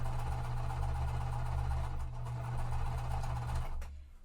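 A sewing machine runs steadily while stitching quilt pieces together, a continuous close motor hum with a fast needle rhythm that carries on for about four seconds before stopping.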